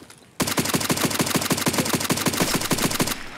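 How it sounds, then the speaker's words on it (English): Automatic gunfire in the shooter game Escape From Tarkov rattles out as one long, rapid, evenly spaced burst, loud and close, starting abruptly and cutting off after about three seconds. "He took a lot of shots."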